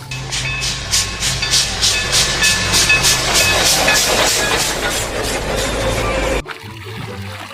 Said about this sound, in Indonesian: Yang ini ada kereta api Thomas